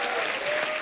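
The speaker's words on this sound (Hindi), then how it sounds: "जोरदार तालियां हो जाएं आपके लिए" A studio audience at a television comedy show bursts into loud, dense applause, sustained steadily through the short moment with no pause.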